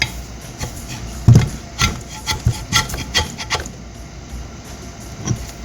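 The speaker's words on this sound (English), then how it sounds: "now we do something like this with the chisel to get out the excess foam from the frame itself" A chisel scrapes old foam off the metal frame of a JL Audio 10W6 subwoofer, producing close, irregular rubbing and scratching strokes with short pauses between them.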